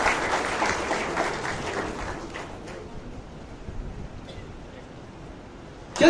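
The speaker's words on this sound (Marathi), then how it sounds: "जोरदार साहेबांसाठी टाळ्या झाल्या पाहिजे" An audience at the Raigad Mi Marathi Pratishthan service award ceremony bursts into loud clapping that gradually thins and fades over several seconds.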